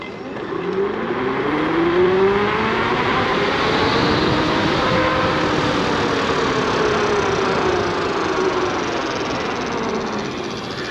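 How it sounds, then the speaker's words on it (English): A high-powered electric bike motor, capable of 64 mph, whines as it accelerates under throttle. Rising and falling tones sit over steady road and wind rush for about eleven seconds. "let me just hit the throttle, and so you can kind of see what the torque on this is"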